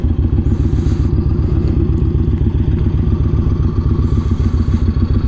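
A Yamaha Raider motorcycle with a belt drive and a 240 rear tire runs its engine, giving a loud, steady, throbbing idle close by with faint clatter on top and no talk.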